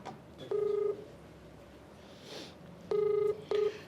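A telephone number being keyed in for a call, heard as distinct touch-tone beeps: one long tone, then a pause, then two more in quick succession, clear and fairly loud over a quiet background hiss.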